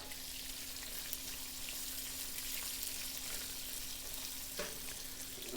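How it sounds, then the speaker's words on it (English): Chopped onion, about half a large one, sizzling in a pan for South Indian spiced potatoes, a steady close crackling fry with a brief stir near the end and no talking. "I'm going to add the chopped onion. I'm using only a big half onion."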